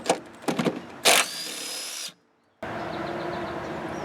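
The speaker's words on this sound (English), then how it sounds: "The 3/8 inch impact, because of its smaller size and lower torque rating, is going to be a lot better for smaller fasteners" A Chicago Pneumatic 12V 3/8 inch cordless impact wrench working a 14mm nut on a car's strut tower: a few short rattling bursts, then a sustained high whine, a sudden silence, and another steady mechanical run, all close and loud.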